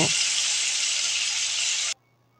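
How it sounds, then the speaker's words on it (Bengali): Potatoes and tomatoes fry in a pan for aloo chana masala, giving a loud, even hiss of sizzling that cuts off abruptly after about two seconds. "এবার আলু এবং টমেটো খুব সুন্দরভাবে কষিয়ে নেব।"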